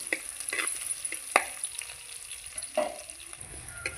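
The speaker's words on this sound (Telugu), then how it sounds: "జీలకర్ర గోలంగానే అక్కముక్క దంచుకున్న ఎల్లిపాయలు వేసుకోవాలి" Crushed garlic and cumin seeds fry in a pan for a Telugu gongura chutney, a continuous bright sizzle broken by several sharp spitting pops and scraping stirs, with no talking.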